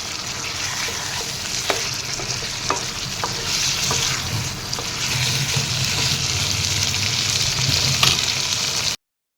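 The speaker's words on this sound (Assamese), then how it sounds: "ইয়াতে এতিয়া মই বইল কৰি থোৱা আলুখিনি দিলোঁ। এইখিনিও এনেদৰে 1 মিনিটমান সময় ভাজি থাকিম।" Boiled potatoes fry with chicken curry in a pan, with a loud, continuous close sizzle, sharp scrapes and clicks of a stirring spoon, and a sudden cutoff at the end.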